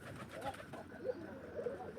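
Domestic pigeons coo softly nearby, a few low murmuring calls spread over a couple of seconds.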